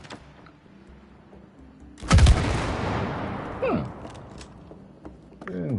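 A single heavy shot rings out in the co-op video game It Takes Two, a loud close blast with a long decaying tail, followed by quieter mechanical whooshes and clatter in a sparse game soundscape.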